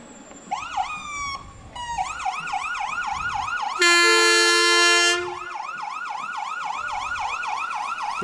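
Emergency vehicles in a Loyalty Day parade sound wailing sirens that sweep up and down repeatedly, joined midway by a loud, sustained air horn blast, all close and prominent with no talk.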